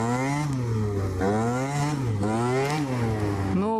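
A Rokse motorcycle on its first ride after a carburetor setup change runs with a buzzing engine that rises and falls in pitch as the throttle is worked, loud and close, without speech.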